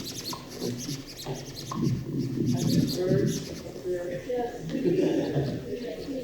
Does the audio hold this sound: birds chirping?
yes